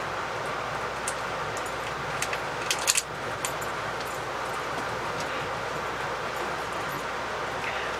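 A passenger train travels on rails on the New York City to Montreal route, a steady loud rumbling roar that fills the whole stretch, with a few light metallic clinks near the middle.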